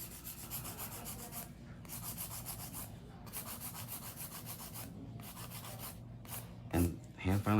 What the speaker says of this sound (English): hand filing is actually really, really, really nice for stiletto shapes